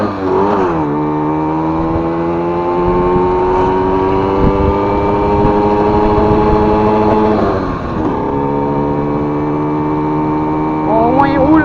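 A KTM Ponny 2 moped engine runs steadily and pulls away in first gear, giving a loud, buzzing two-stroke drone up close that holds even with small shifts in pitch.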